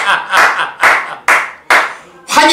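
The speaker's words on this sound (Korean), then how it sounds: "박수 한번 쳐야 돼," A group claps hands in unison during an insurance company sales-ranking announcement: about six loud, sharp, evenly spaced claps in a quick rhythmic pattern, close and clear, with no talking.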